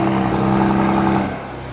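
A BMW M2 CS engine revs hard through a newly fitted exhaust with a loud, throaty drone, holding steady before easing off near the end.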